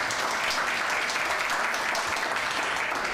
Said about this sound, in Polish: Tak, brawa.